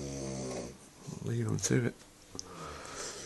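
Loud, rasping snores from men sleeping in a shared room, a few drawn-out breaths rising and falling close by, with a man's brief spoken remark between them.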